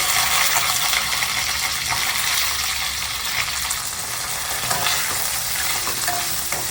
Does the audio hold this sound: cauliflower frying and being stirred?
yes